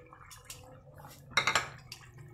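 Snakehead fish pieces are slid into a cooking pot for a simple light curry, producing soft metallic clinks and wet splashes, with a small cluster of sharper knocks partway through, close and fairly quiet.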